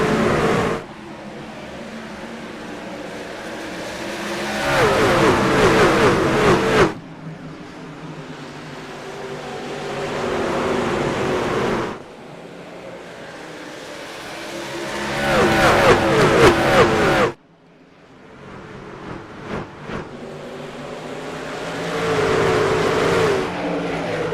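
Race trucks from the iRacing truck series at Richmond roar past in loud waves, engines revving up and cutting off sharply as the pack sweeps by several times, with no talk.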